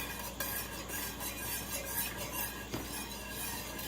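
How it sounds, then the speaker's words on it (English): A spoon stirs a thickening Chicken Lazone sauce in a pan, making a soft, continuous scraping and swishing with a light sizzle, quiet and close, with a couple of sharper taps. "Just gotta keep stirring away. Just don't want the sauce to break."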